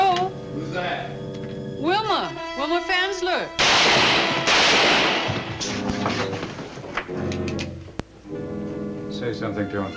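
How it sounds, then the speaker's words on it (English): Gunshots are fired at a man in a TV drama, two loud, sharp bursts with a later single crack, between stretches of voices and musical score. "Why are you shooting at me?"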